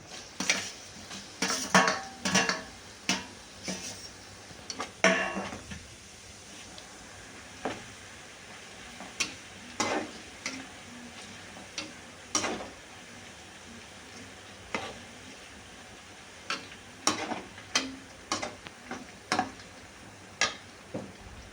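A spoon scrapes and taps in a pan as onion paste fries for tomato chutney. Irregular stirring clinks come in bursts over a faint sizzle, close by, with no one speaking.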